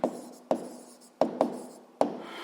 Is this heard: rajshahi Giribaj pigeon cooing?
no